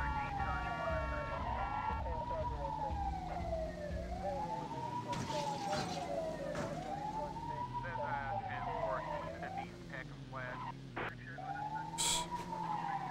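An ambulance siren from the PS1 game Grand Theft Auto wails in repeated rising and falling sweeps over a low engine drone, with a few sharp bursts of other game sounds near the end.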